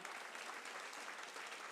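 A church congregation applauding, a steady, dense wash of clapping that stays even and unbroken from start to finish with no voices on top.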